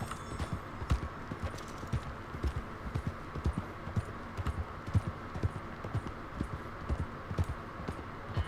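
Horse hooves clip-clop in a steady walking rhythm in the video game Red Dead Redemption 2, fairly quiet and even, with faint ambient background.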